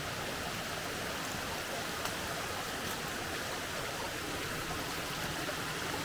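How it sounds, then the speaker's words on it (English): Creek water flows steadily in Loyalsock State Forest, Pennsylvania, a dense, even rush heard close up and continuous throughout, with no voices. "I'm now in the creek. Once again, a nice flow of water"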